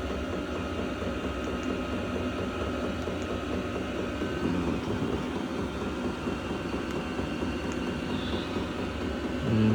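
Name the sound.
diesel air heater running in a camper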